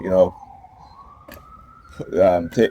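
A New York police siren wails in a steady, moderately loud tone that slides slightly in pitch, running beneath bursts of a man's speech at the start and end.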